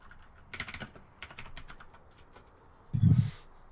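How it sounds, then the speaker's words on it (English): Computer keyboard typing during a StarCraft pro match, Solar versus TY in the Alpha Pro Series, a scatter of fairly faint keystrokes and clicks followed by one louder thump near the end, with no talk. "Typing."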